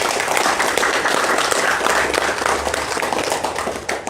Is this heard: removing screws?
no